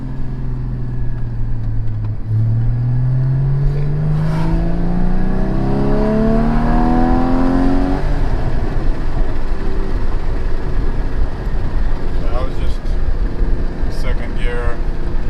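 A 2016 Porsche GT4 engine climbs in pitch through the gears, rising tones breaking at a shift before pulling again into third, a loud steady in-cabin drone with road roar underneath and people talking over it.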